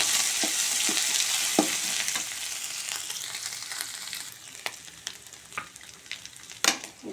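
Garlic ginger paste fries in hot oil with a loud, dense sizzle that gradually settles, while spaced taps and scrapes of a ladle sound against the pan.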